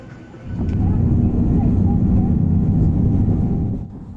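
A Ryanair jet takes off from East Midlands, heard from inside the cabin as a loud, steady low-pitched engine roar that swells after a moment and holds evenly before easing slightly at the end.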